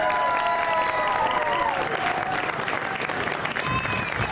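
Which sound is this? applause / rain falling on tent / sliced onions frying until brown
applause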